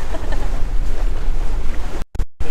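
Wind buffets the microphone over rushing water on a sailboat underway, loud and constant with a couple of abrupt cutouts near the end.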